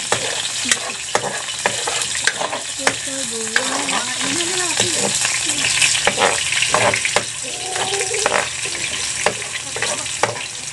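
Onion sizzling and frying in a pan for chicken curry, a steady loud crackle with sharp clacks of a utensil stirring, and brief talk in between.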